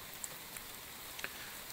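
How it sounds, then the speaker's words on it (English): Light rain in the video game The Infected, a soft, steady patter with a few faint isolated drops, quiet and continuous. "we don't want to go while it's raining"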